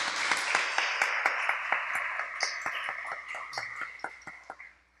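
An audience claps for about five seconds at an academic philosophy session, the applause dense at first and then thinning and fading out toward the end.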